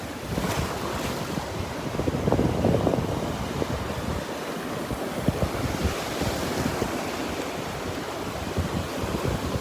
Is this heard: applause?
no